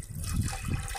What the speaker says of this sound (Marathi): त्यात पाणी टाकते मी।